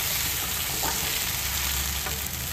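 Jackfruit curry frying in a small amount of oil, a dense, loud, unbroken sizzle heard up close with faint stirring scrapes and no speech.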